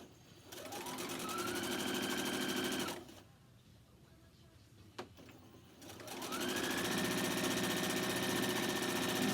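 A sewing machine stitches a fabric mask in two loud, steady bursts of rapid mechanical whirring, separated by a quieter pause with a brief click.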